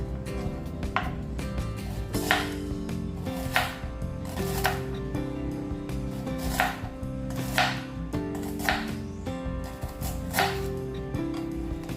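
A knife slices food into small rings on a board, a steady series of crisp chopping knocks roughly every second, close and clear, with background music playing throughout.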